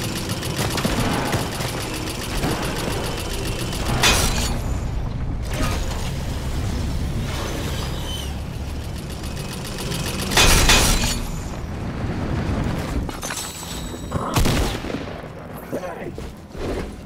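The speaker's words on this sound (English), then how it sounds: "I hear gunshots." Gunfire erupts during a Fortnite duos match, sharp bursts and volleys cutting through clattering mechanical game sounds and music, with players talking over the action.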